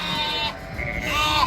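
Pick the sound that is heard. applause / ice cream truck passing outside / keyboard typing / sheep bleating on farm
sheep bleating on farm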